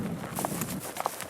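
Morgan horses walk on a trail ride, their hooves giving soft, irregular clip-clops over a dull outdoor background, moderately close and fairly quiet, with no talk.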